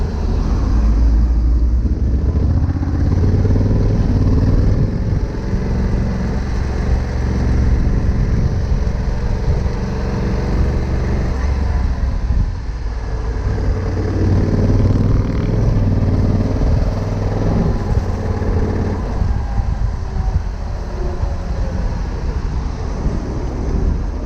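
Riding a Honda CRF 1100 Africa Twin DCT motorcycle with automatic gearbox, engine drone heard under heavy, constant wind buffeting on the microphone for the whole stretch.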